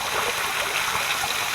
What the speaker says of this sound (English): we're going to go under the waterfall